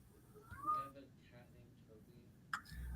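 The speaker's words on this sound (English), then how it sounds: "He wants to come in and look out the window and cuddle with Daddy because, Toby's pissing him off again." A pet cat at the door gives a short meow, then another brief sharper one a moment later, fairly faint and indoors, while a person talks quietly in the background.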